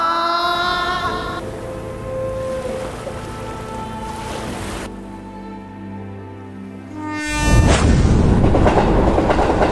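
A train passes close by, with a loud, steady rumble and wheel clatter that swells into a harsher roar toward the end.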